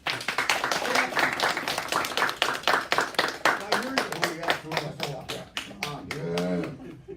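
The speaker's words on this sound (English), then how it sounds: "Let's give him a round of applause, please." Hypnosis show audience clapping for a volunteer on stage, sharp individual claps in a quick irregular rhythm, close and fairly loud, with someone speaking over them toward the end.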